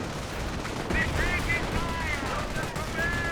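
Bursts of machine gun fire in the Company of Heroes strategy game ring out beneath steady battle ambience, with a commentator talking over the action throughout.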